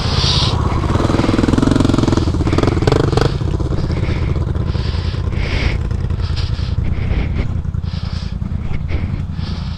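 KTM motorcycle engine revving hard and steadily up close, a loud continuous mechanical roar with rattling clatter throughout and no break.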